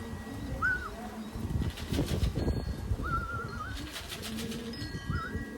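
Racing pigeons coo softly over a steady low background, with brief rustles and wing flaps scattered through, while a higher whistling tone repeats a few times.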